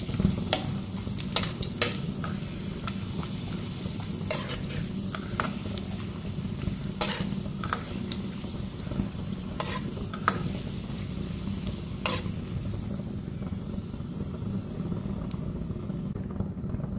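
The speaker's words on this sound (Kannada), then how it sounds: "ಇವಾಗ ಟೀಗೆ ಹಪ್ಪಳವನ್ನು ಫ್ರೈ ಮಾಡೋಣ ಅಂತೇಳಿ ಹೊರಗಡೆ ತೆಗೆದಿಟ್ಟಿದ್ದೇನೆ ನೋಡಿ" Thin homemade cassava papad frying in hot oil, a steady soft sizzle with scattered sharp crackles and pops throughout, close and moderately loud, with no voices.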